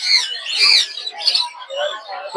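Several parrots, including African parrots, squawk and chatter nearby in loud, overlapping harsh calls at a bird market, with a busy chorus of birds throughout.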